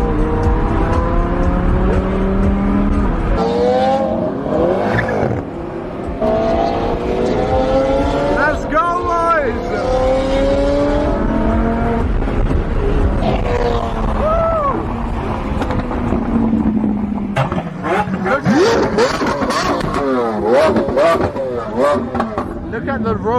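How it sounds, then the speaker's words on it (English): Supercars rev their engines at a luxury car event in the Middle East, loud and close with repeated rising and falling engine sweeps throughout, while someone talks over the din. "Can't even speak, there's so much revving going on."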